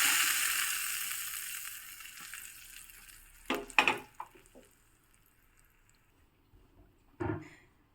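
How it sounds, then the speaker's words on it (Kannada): Mustard seeds, asafoetida and curry leaves sizzle and crackle in hot coconut oil for tempering, the hiss fading gradually, followed by a few clattering bumps as the pan is handled. "ಇದಕ್ಕಿವಾಗ ಒಂದು ಒಗ್ಗರಣೆ ಹಾಕ್ತಾಯಿದ್ದೀನಿ ಸಾಸಿವೆ ಇಂಗು ಕರಿಬೇವು ಮತ್ತು ಕೊಬ್ಬರಿ ಎಣ್ಣೆ ಹಾಕಿರೋ ಒಗ್ಗರಣೆ"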